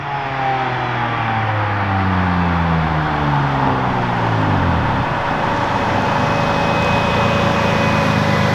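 A 700 hp V6 all-wheel-drive Honda Civic with a big 76mm single turbo, heard close and loud as a steady deep engine roar with falling, shifting harmonic tones early on, continuous throughout without talk.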